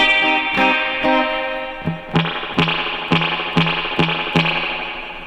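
Surf guitar through an outboard spring reverb unit, a run of picked notes with a wet, dripping reverb tail, loud and close with no voice.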